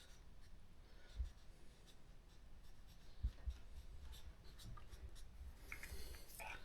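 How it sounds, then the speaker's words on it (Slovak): Soft scratching of a pen writing a label to mark grapevine cuttings, steady and close, with faint handling bumps and no talk. "tak každý odrezok si vlastne pekne poznačím"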